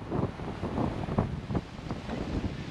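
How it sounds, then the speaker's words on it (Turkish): Strong wind buffets the microphone on a beach while rough, choppy sea waves roll and crash, a continuous loud rush of gusts and surf with no voices. "Çok dalgalı ve rüzgarlı şu anda."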